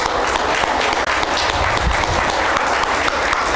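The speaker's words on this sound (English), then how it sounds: "Let's have a round of applause for this event." Audience applause at a multidisciplinary international conference, a loud, dense, continuous clapping from a large crowd that fills the whole few seconds.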